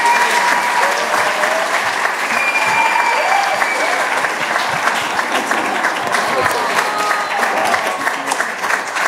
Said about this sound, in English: give Lawrence Wintermeyer a massive congratulations and a massive round of applause